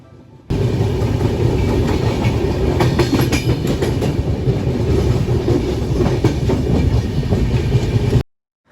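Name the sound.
train running along the tracks past Salem station, India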